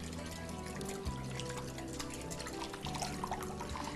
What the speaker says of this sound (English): So a little extra virgin olive oil in this to bring it all together.